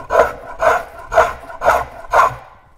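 A hand tool takes shavings off a wooden paddle in five even rasping strokes about half a second apart, close and crisp, each fading quickly.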